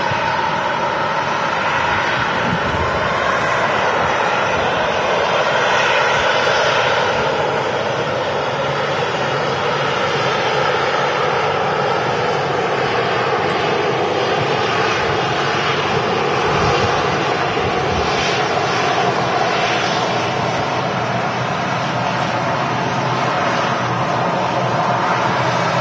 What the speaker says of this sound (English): it looks like the Aer Lingus A330 is going to be next out